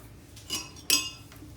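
A metal spoon stirs dried parsley into smothered beef tips in a pot, giving two bright clinks against the metal, the second louder, with quiet scraping in between.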